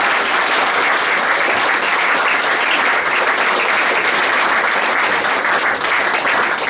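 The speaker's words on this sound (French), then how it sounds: "Donc rien que pour ça, on peut l'applaudir." A comedy audience applauds a young comedian from Niort, a dense, steady roar of many hands clapping close and loud for several seconds without a break.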